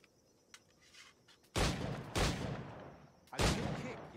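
Three loud flintlock pistol shots from the video game Assassin's Creed IV, spaced about a second apart, each a sharp blast with a short ringing tail, preceded by faint clicks and quiet background.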